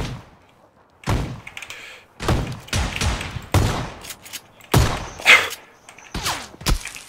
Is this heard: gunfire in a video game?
yes